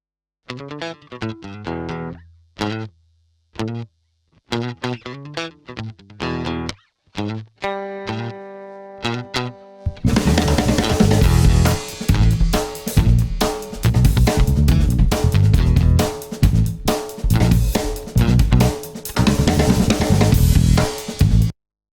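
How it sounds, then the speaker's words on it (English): A distorted electric guitar plays a choppy rhythm riff with short bursts and pauses, then a full band kicks in loudly halfway through. "Next, we're going to work on the guitar rhythm right here, because it starts off the song."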